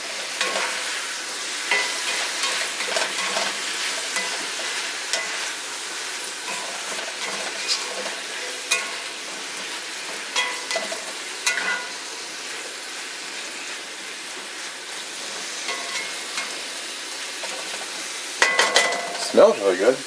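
Pork chops and sweet potatoes sizzle on medium heat in a cast iron skillet, a close, continuous crackling fry with occasional stirring scrapes and a clatter of utensil clicks toward the end.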